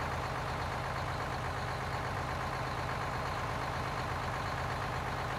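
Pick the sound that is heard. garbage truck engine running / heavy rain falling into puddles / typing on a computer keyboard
garbage truck engine running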